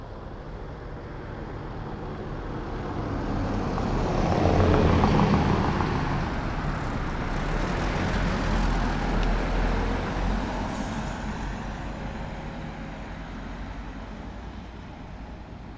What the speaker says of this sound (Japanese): あ、後ろから車が来ましたね。